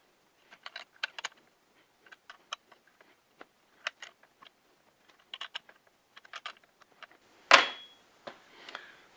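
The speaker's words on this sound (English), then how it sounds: "Now I should be able to just tighten these down. I can figure out how to use a wrench" Wrench tightening bolts on a Stihl 261 chainsaw, a ported Westcoast Saw build, heard as sparse close metallic clicks and ratchet ticks in small clusters, then one louder clack near the end, with no talking.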